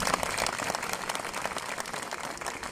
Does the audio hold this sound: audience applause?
yes